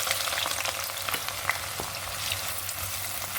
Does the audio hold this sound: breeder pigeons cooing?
no